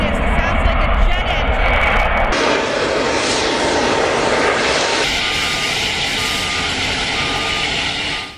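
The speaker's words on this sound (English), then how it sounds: "Right behind me, you can see and hear two flaring gas wells. You can hear how loud it is. It sounds like a jet" Two flaring fracking gas wells roar loudly and steadily like a jet engine, a broad continuous rush filling the whole clip, with a faint beeping tone joining in partway through.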